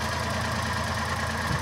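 Small engine idling steadily after a distributor rotor and CDI ignition timing adjustment, an even close mechanical hum with a low rhythmic throb, heard alone without talk.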